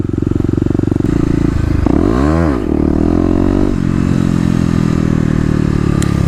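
A Kawasaki KLX250 dirt bike engine revs hard and close as the rider lifts the front wheel, a loud rattling single-cylinder drone that dips briefly, swoops back up and then holds steady.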